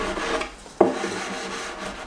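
A piece of wood rubbed over freshly applied edge banding on a cabinet panel, a soft continuous scraping with one sharper knock partway through, close and fairly loud.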